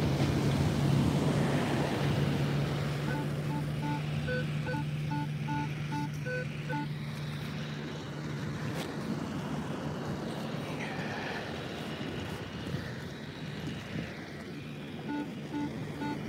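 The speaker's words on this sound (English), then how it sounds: "Get out of here, waves. We don't want your waves." Ocean waves wash onto the beach at Coney Island in a continuous, loud, rushing surf with wind noise, while intermittent electronic beeps repeat over the top.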